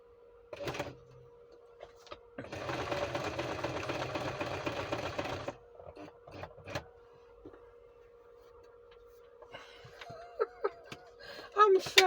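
A foot-pedal sewing machine stitching in one burst of about three seconds, a fast even whirr, set among quiet handling clicks and brief laughter and talk before and after.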